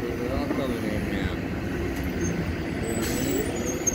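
Transit buses pulling into a downtown bus terminal bay in Williamsport, Pennsylvania, give a steady low engine rumble with a brief air-brake hiss, close and continuous, with voices in the background.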